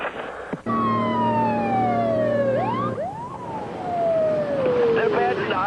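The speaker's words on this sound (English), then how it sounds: "I did hear your fire siren blow" A fire siren in New York wails loudly and steadily, its pitch sliding down in long sweeps and snapping back up, with a low horn-like tone beneath and faint traffic noise behind.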